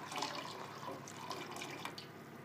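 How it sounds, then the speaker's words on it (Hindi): Water pours steadily into a pot of chicken oats soup, a soft continuous splashing and trickling that is fairly faint and runs alone. "एक लीटर पानी हम और ऐड कर रहे हैं।"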